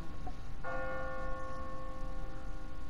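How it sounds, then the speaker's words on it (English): A church bell in The Walking Dead video game strikes once and rings out with a long sustained tone, fairly close and alone over low background ambience. "What kind of church bell goes off at 20 past the hour?"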